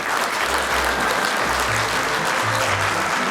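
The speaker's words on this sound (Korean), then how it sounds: "모든 청중을 대변해서 다시 한번 뜨거운 박수 부탁드리겠습니다" A church congregation applauds warmly during a Sunday service, a thick, continuous wash of clapping that stays loud and even from start to finish, with a low hum beneath.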